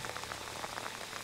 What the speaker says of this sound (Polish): Ewidentnie się rozjaśnia, pada coraz słabiej.